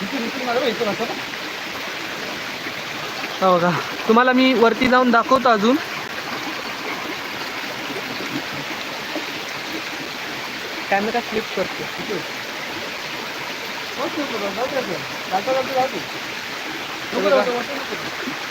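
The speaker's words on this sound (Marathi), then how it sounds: "आमच्याकडे एकदम किती चांगला शुद्ध पाण्याने वाहतोय" Steady rushing water runs throughout, with someone talking over it in several bursts, nearby.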